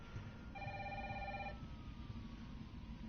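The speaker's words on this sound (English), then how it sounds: "let's go answer the damn phone" A telephone rings in the video game Resident Evil 3, one electronic ringing burst in the middle of the clip over a steady low background rumble, with no talking.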